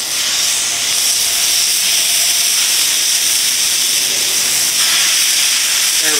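Burgers sizzle loudly and continuously on a hot grill set to a higher temperature on one side, a dense steady hiss and crackle with no talking over it.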